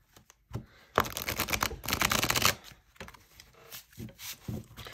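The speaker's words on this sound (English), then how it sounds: "So I definitely can riffle shuffle it." A deck of tarot cards is riffle shuffled close up: a dense, fast flutter of cards, then softer taps, shuffling and bridging sounds, with no voice.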